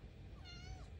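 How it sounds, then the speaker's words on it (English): A cat gives a single faint, drawn-out meow against a low background rumble, wavering up and then trailing off within a second. "What is that meow? Is that your angry meow?"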